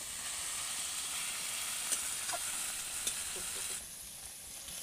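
Potatoes fry in spice masala with a soft, steady sizzle, punctuated by a couple of brief utensil clicks, and the sizzle drops a little near the end.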